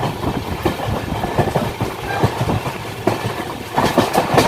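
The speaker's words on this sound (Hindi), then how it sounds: "सो ट्रेन ने यहाँ पे पकड़ लिया है ज़बरदस्त रफ्तार।" An Indian Railways Kamrup Express bound for Guwahati runs at high speed, giving a steady close rumble with rhythmic clickety-clack of wheels over rail joints that continues throughout.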